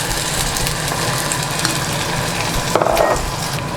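Tomatoes and peppers hit a hot pan with smoked paprika, giving a steady broadband sizzle that runs throughout, with a brief stirring scrape near the end.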